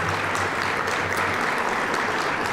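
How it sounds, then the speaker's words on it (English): Applause from a banquet audience at a university appreciation dinner, a steady dense wash of clapping that holds evenly loud for the whole stretch with no voices over it. "could we give him a round of applause?"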